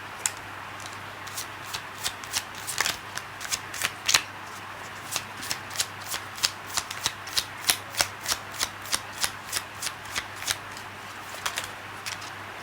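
Lenormand cards being handled and shuffled, a steady run of crisp riffling flicks and snaps close by, fairly loud and rhythmic, with no one speaking.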